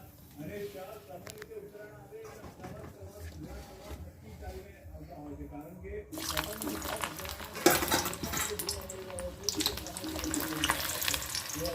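Vadi dumplings for undhiyu go into hot oil over low heat, and the frying becomes a steady broadband sizzle that swells partway through and keeps hissing under a voice talking.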